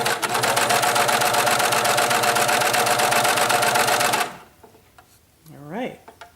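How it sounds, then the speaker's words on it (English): Babylock BLCS-2 coverstitch machine stitching steadily at close range, a dense continuous whirring rattle for about four seconds before it stops abruptly, followed by quiet and a brief voice. "So the needle's in, the presser foot's down, and now I'm going to stitch."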